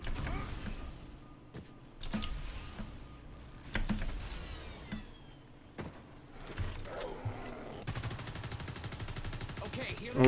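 Gunfire in the Evolve video game comes as sparse, sharp shots spaced a couple of seconds apart. The shots are faint over quiet game ambience, followed by a denser rattling burst near the end.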